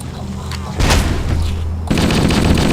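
Rapid gunfire from the PC game Halo: Combat Evolved, loud bursts of shots and booming blasts filling the whole clip, with a sharp surge of fire near the end.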